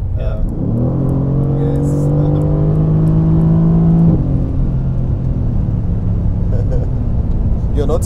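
Mercedes-AMG GT C engine revving hard under acceleration on a road trip, a strong rising drone that climbs in pitch for several seconds, then drops and settles to a steady cruise, with a brief spoken word from someone on board.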